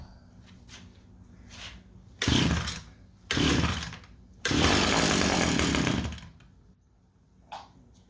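A Stihl 010AV chainsaw, an old hard-starting family saw, is drop-started with three loud bursts as it fires and revs briefly, the last run lasting almost two seconds, then falls back to quiet with faint clatter between pulls.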